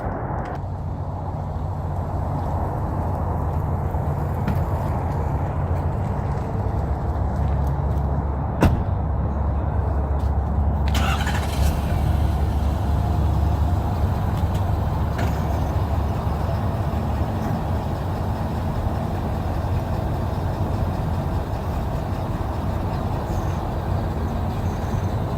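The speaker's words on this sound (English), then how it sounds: "actually back up the truck under the trailer here to make sure that it is aligned properly" A truck idles with a heavy low rumble while reversing under a trailer to hitch it, a steady engine drone with a sharp click midway and a brief hiss of air, no talk.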